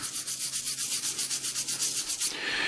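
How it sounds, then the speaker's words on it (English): Sandpaper rubbed back and forth over a model dinosaur leg in quick even strokes, a close rhythmic scratchy rasp repeating about a dozen times before a final longer stroke. "hitting this with sandpaper is going to be rough to do because of the shape of it"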